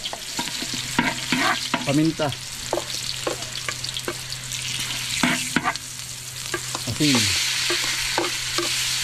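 Onion and garlic sautéing in a hot pan, a steady bright sizzle with repeated scraping stirs of the utensil throughout, while a voice speaks briefly over the cooking.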